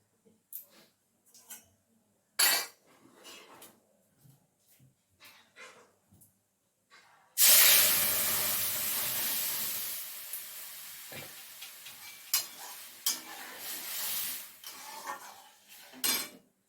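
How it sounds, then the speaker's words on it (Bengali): Whole spices hit hot oil as tempering for dal, bursting into a sudden loud sizzle that hisses on and fades, preceded by scattered kitchen clinks and a few utensil knocks. "তো ডালটা এবার ফোড়ন দিয়ে নিই।"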